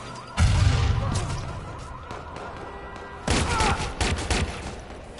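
Gunfire in the video game Watch Dogs 2, a sudden loud burst of shots and booming impacts that fades, then a second cluster of rapid shots, with little else heard.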